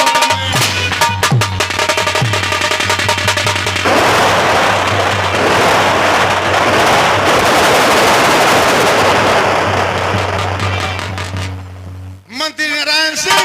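Rapid bursts of gunfire crackle loudly and continuously, a dense barrage over a droning low tone, fading near the end.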